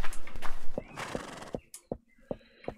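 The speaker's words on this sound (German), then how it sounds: "Da ist ein Pferd auf dem Flur." A horse in the Minetest MineClone5 game gives a loud whinny, followed by a run of sharp, evenly spaced hoof clip-clops against a quiet background.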